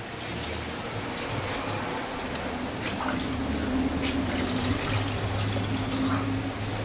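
Water sloshes and trickles steadily as vitamins are mixed into it for rabbits, a continuous close liquid swirl with a low steady hum underneath and no voices.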